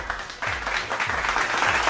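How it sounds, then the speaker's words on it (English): An audience at a talk on building positive relationships breaks into applause, a dense wash of clapping that swells and holds steady for the whole stretch. "I don't like the way you're clapping"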